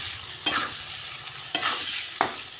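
Green chili, ginger, cumin and onion spice paste fries in a pan, a steady sizzle broken by three sharp stirring scrapes spaced about a second apart.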